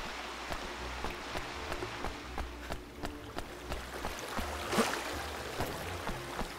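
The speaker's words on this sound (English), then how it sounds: "I did not see if you could do something like go under this waterfall." Steady rushing water of a waterfall in the video game Ni No Kuni 2 sewer area, a soft continuous wash with light regular clicks from game footsteps over it, no talking.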